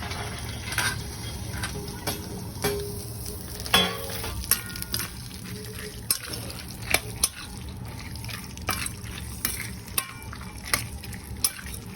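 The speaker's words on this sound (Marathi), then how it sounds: "आता हे सगळं आपल्याला भाजून घ्यायचं, म्हणजे तळून." Ingredients for Marathi fenugreek laddu, including ghee, sizzle steadily in a pan while a spoon stirs and scrapes against the metal in repeated clinks and knocks, with no talk over the frying.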